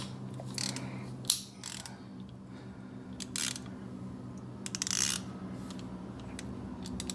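A ratchet breaks bolts loose on the wiper cowl of a GR Corolla, giving a few separate clicking and clunking bursts with one sharp knock early on, set against a steady low hum and no talking.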